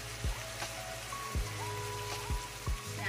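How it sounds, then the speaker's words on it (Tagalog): A small amount of water poured into a pan while cooking spicy chicken adobo gives a steady close trickle and splash, with a few soft low thumps along the way. "Tapos dito guys, maglagay ako ng kunting tubig."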